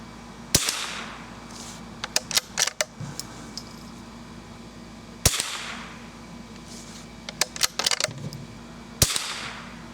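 Suppressed .22 rifle firing CCI Quiet rounds outdoors at a target: three sharp, fairly loud reports spaced several seconds apart, each followed by a cluster of smaller clicks and rattles of the action, with no talking.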